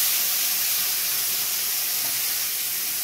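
Carrots sizzle in hot white oil as they are stirred for Bengali fried rice, a steady close hiss and crackle that runs evenly throughout with no voices.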